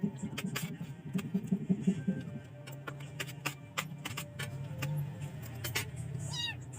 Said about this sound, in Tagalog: Normal naman sa pusa umiyak sa mga kuting.